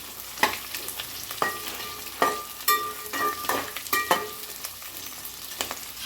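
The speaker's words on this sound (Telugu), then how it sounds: "ఆనియన్స్ కూడా కొంచెం ఫ్రై అయిన తర్వాత గ్రీన్ చిల్లీ గ్రీన్ చిల్లీ కూడా కొంచెం ఫ్రై కావాలి" Onions and green chillies frying in a pan, a continuous sizzle broken by repeated scraping stirs and a few sharp ticks of spoon against metal, close and moderately loud.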